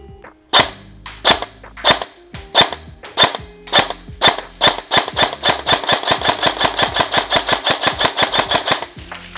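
An ICS CXP-APE SE black airsoft electric gun fires at a target 35 metres away, first as spaced single snapping shots, then in a quick, even string of loud close pops before stopping.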